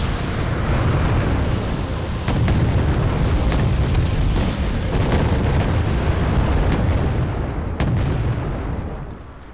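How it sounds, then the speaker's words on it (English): Bastion missiles launching and exploding in Wargame: AirLand Battle, a loud, continuous rumbling roar of blasts with sharper booms near the start and end, fading at the close. "you can see that's the Bastion missiles go out there"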